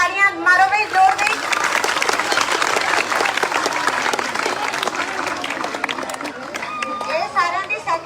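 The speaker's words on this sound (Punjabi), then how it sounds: "ਇਹਨਾਂ ਬੱਚਿਆਂ ਲਈ ਵੀ ਸਾਰੇ ਜਣੇ ਤਾੜੀਆਂ ਮਾਰੋ ਬਈ, ਜ਼ੋਰ ਦੀ" An audience at a village Teeyan Teej festival stage show applauds the children performers with sustained loud clapping, and a voice speaks briefly before and after it.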